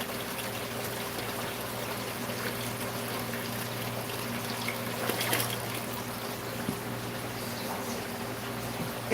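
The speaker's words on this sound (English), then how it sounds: "If you're wondering why you can hear water in the background, it's because I'm actually changing water." Water trickles and pours softly during an aquarium water change, a quiet, continuous flow against a low steady hum, with no talking.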